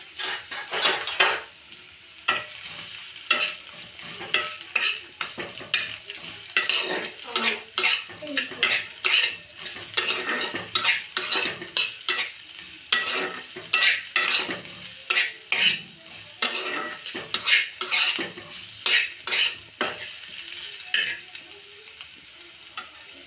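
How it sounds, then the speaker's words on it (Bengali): Sliced onion frying in hot oil in a wok, with frequent sharp scrapes and clinks of a spatula stirring over a low sizzle, close and irregular throughout. "কড়াইয়ে তেলটা গরম হয়ে গেছে। এবার দিয়ে দিলাম কি? পেঁয়াজ।"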